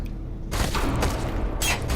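Gunfire in the first-person shooter FEAR 3: a dense, loud fusillade of rapid shots and booming impacts that bursts in after a brief lull and continues steadily.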